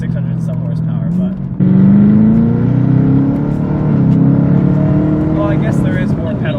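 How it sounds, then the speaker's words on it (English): Chevrolet Camaro ZL1 V8 heard from the cabin as it downshifts and goes to full throttle: a steady engine note, a brief dip, then a loud, deep roar climbing steadily in pitch. "downshift into fourth, and then full throttle"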